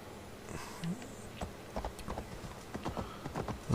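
A horse's hooves clip-clopping in the video game Assassin's Creed Valhalla, an irregular run of close, crisp hoof strikes over low ambient game background, with no talk.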